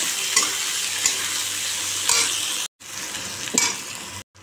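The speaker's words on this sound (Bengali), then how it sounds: "এবার পেঁয়াজগুলো দিয়ে দিই, পেঁয়াজ লঙ্কা ভালো করে ভাজবো।" Onions and chillies frying in a home-kitchen pan with spices to follow, a steady close sizzle broken by a few sharp stirring scrapes and two brief silent gaps.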